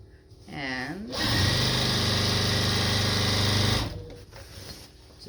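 A sewing machine runs in a steady continuous whir for a few seconds, stitching a small hem on a child's mini apron, with a voice talking briefly before the motor starts and after it stops.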